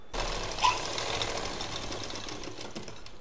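Sewing machine stitching a zipper onto a quilted tiffin bag, a continuous fast mechanical whir and rattle running steadily throughout, close and alone.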